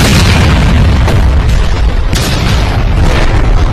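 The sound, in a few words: explosion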